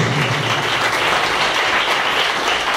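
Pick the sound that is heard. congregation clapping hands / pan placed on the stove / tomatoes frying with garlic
congregation clapping hands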